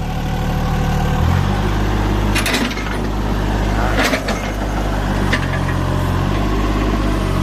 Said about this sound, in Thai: เครื่องนิ่มนะเครื่องยนต์ดีเซลสามสูบ